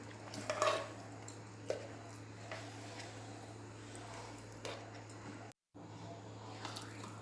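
A spoon stirs ground rice batter with roasted flour in a bowl, giving faint scrapes and soft knocks over a low steady hum, quiet and close with no clear speech.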